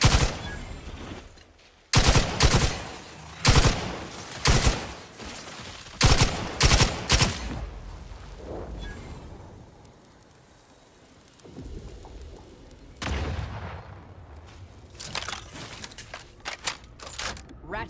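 Bursts of gunfire from a sci-fi shooter game, The Outer Worlds 2, crack out loud in short clustered volleys over the first half, fade to a lull, then return in quieter scattered shots near the end, with game voices talking between them.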